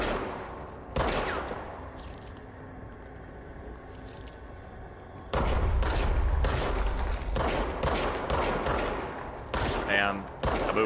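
Gunfire from a weapon in the video game Control, with sharp bursts of shots that start and stop several times over a steady background rumble, close and loud, with talk in between.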